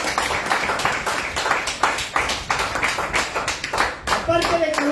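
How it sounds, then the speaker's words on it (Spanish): Church congregation at a sermon clapping in uneven, rhythmic bursts, fairly close, with a voice speaking near the end. "Denle aplausos a ese hombre."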